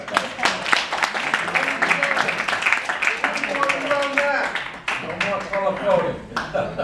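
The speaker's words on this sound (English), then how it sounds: "So a big round of applause for yeah." An audience at a retreat gathering claps, a patchy round of applause under and between people talking loudly nearby.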